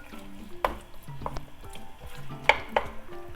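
Onion pieces frying in a pan for a Catalan beef stew, a soft steady sizzle with a few sharp clicks and knocks of stirring utensils against the pan, no talking.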